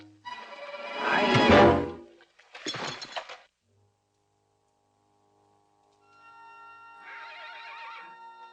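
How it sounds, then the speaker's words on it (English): Loose horses on a western range whinny loudly in two close bursts, then after a pause a fainter, shorter neigh rises again at a distance. "The horses are loose. Yeah, and they're coming this way, Hoppy."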